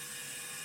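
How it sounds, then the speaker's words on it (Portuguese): A wood lathe turning a small bowl-lid ornament while a parting chisel shaves and lowers the wood, giving a steady, high, whining scrape that holds even and close through the brief moment with no voices. "com o formão cortador ou divisor ou separador eu vou rebaixando"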